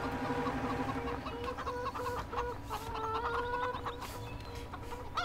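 Chickens cluck steadily in Farming Simulator 2015 on the Sandy Bay map, several hens chattering near and moderately loud over a farmyard ambience, with no talk.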